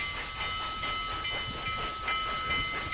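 A Union Pacific train in the video game RO-Scale Rails closing in, with a steady rolling rumble, hiss and faint tonal whine building gradually, no talking.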